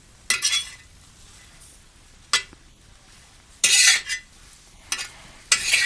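Wild mustard greens roasting on a hot griddle, turned over in small batches, give off a few sharp scraping bursts from the turner, separated by quieter stretches with no voices.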